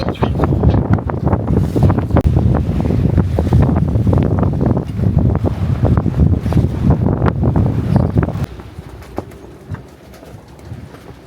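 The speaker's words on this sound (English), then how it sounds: "It's very windy." Strong wind roars across the microphone aboard a sailboat rounding a cape off Normandy, loud gusty rushing that fills the scene before easing to a quieter hiss near the end.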